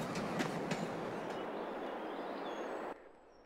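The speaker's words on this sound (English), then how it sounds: "Oh, that's like the Raven Park train." A train in Farming Simulator 22 rolls past steadily, its clickety-clack wheel rhythm and rumble carrying on loud and close until the sound cuts off sharply near the end.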